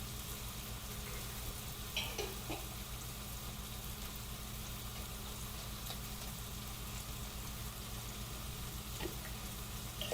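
Green chili paste added to a hot pan for a sunny side up egg bhaji, a faint, steady low sizzle with a couple of brief scraping stirs and no voices.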